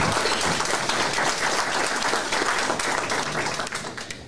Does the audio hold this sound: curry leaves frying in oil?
no